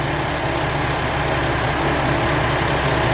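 A Kiha 120 diesel railcar engine idles nearby, a loud, steady low diesel rumble with a constant throb and no break.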